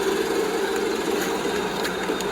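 A Subaru WRX engine idling with a steady, fairly quiet low hum and faint mechanical ticking, with no voices.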